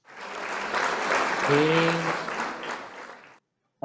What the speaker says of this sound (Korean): 홍익표 대표님 모실 때 큰 환영의 박수로 모시겠습니다